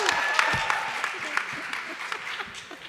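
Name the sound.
audience applause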